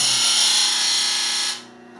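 A Robert Sorby skew chisel on a Rikon sharpening system grinder gives a loud, steady, bright whirring grind held close for about a second and a half, then cuts off abruptly, leaving a quiet motor hum.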